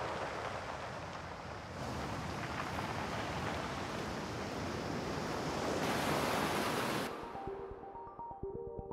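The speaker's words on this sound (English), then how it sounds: "we're going to be recording the noise of the waves and the way the water rushes up and down the shore" Sea waves wash up and down a shore in a steady, loud broadband rush, swelling slightly before easing off near the end.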